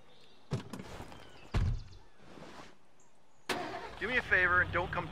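A car in the zombie survival game State of Decay: Year-One Survival Edition, with a few sharp door thunks followed by the engine cranking and starting, near and loud, while a player talks over it.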